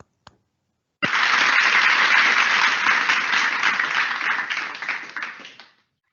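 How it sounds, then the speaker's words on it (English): A school audience at a co-curricular finale claps for the winners, a dense burst of applause that starts abruptly after a brief silence, holds steady, then tapers off and stops. "Let's have a quick round of applause for the winners."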